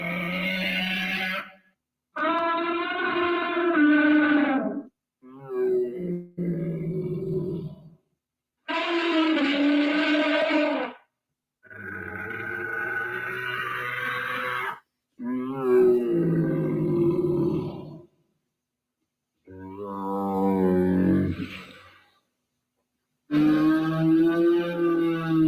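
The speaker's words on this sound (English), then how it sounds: "That's because that is an elephant." Elephant calls heard as a run of loud, drawn-out trumpeting and rumbling bellows, each burst a few seconds long and separated by brief silences, with no talking over them.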